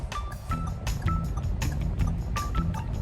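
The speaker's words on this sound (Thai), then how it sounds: "นี่คือสัญญาณเสียงไฟเลี้ยวที่3นะครับ" A steady series of turn-signal clicks, setting three in a 2022 Toyota Yaris Ativ, repeats every half second or so inside the car, with a faint low engine hum underneath.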